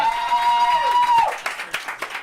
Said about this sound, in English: Y'all give Craig a round of applause for this.